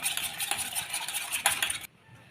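Eggs are beaten in a bowl with chili powder, pepper, turmeric powder and salt, giving rapid close scraping and clinking strokes that stop abruptly near the end.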